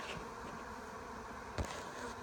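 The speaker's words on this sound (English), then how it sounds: "Wow, that is a big swarm." A large honeybee swarm drones in a dense, continuous buzz that fills the air, steady and moderately loud, with one brief bump of handling noise partway through.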